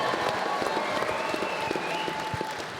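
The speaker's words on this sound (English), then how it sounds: "Yo, give him a clap. Give him a clap up for sure." Applause from an audience at a Super Bowl 50 Denver Broncos reunion event, a steady dense patter of clapping filling the whole moment with no one speaking over it.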